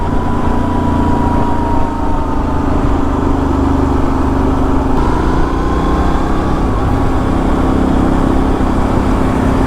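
A Benelli Leoncino Trail 800 scrambler motorcycle engine drones steadily while ridden at a relaxed pace, a constant low mid-pitched hum with a faint whine above it, close and continuous for nearly ten seconds.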